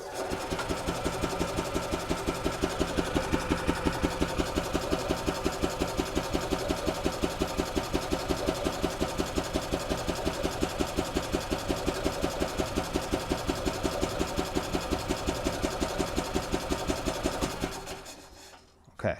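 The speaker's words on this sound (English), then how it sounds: "I'm going to put it in neutral and just crank the engine" The gas engine of a 2008 Yamaha Drive golf cart, in neutral and with a strong gas smell fault, cranks and runs steadily with a fast, rhythmic chugging, loud and close, then cuts off near the end.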